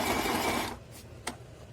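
A sewing machine stitches a zigzag along a fabric edge in a dense, rapid whir that cuts off abruptly, followed by a couple of brief mechanical clicks in quiet.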